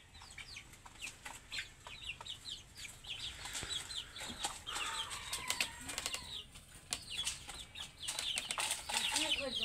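Well-grown domestic chickens being raised at home cluck and call in a busy, irregular stream, with bursts of wing flapping and scratchy movement, fairly quiet and close by.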